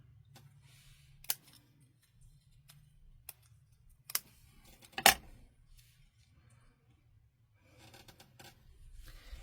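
Paper is trimmed for a stamped greeting card, with a few sharp, separate cutting snips and clicks against a quiet room and long pauses between them.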